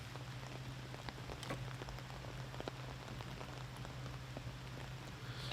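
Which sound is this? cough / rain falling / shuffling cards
rain falling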